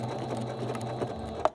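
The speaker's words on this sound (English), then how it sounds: "I'm going to backstitch." A sewing machine backstitches the end of a quilt seam while piecing a pinwheel quilt, giving a close, steady mechanical hum with a brief thunk near the end as it stops.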